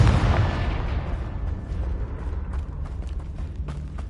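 A Confringo blasting spell explosion in the Hogwarts Legacy video game, a loud, low boom at the start that rumbles and decays over several seconds with faint creaking debris afterward.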